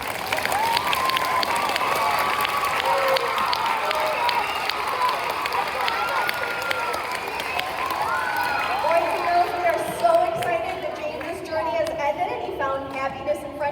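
Audience applause and cheering fill the end of a James and the Giant Peach stage show, a loud, sustained wash of clapping from a crowd that runs the whole stretch, with voices calling out over it.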